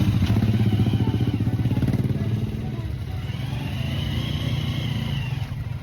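A motorized tricycle's engine putters loudly through busy Philippine street traffic near an open vegetable market, a close, rough rhythmic chug that eases and picks up again, with voices talking over it.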